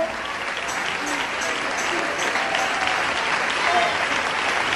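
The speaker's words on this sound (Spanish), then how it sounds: "Si lo crees, dale ese aplauso de alabanza." Sustained applause of praise from a church congregation during a testimony, a thick, continuous wash of many clapping hands at moderate loudness with no pauses.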